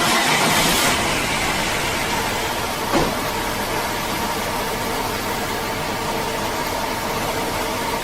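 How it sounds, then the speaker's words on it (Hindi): A petrol car engine, one with a misfiring fault, starts with a brief crank burst and then settles into a steady, noisy idle that drones on evenly, fairly loud and close, with no talk. "चलिए पहले गाड़ी स्टार्ट की जाए।"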